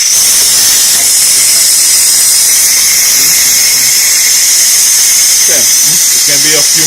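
Steam vents from a Ninja Foodi OP302 pressure cooker in a loud, continuous hiss that stays steady and close throughout, with faint murmurs underneath.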